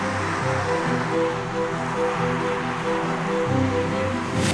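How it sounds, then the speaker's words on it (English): A waterfall beside a loch in the Scottish Highlands gives a continuous, close rushing roar of falling water, steady and unbroken, with a faint low hum running beneath it and no voices. "There's a waterfall to my left and a big lock to my right."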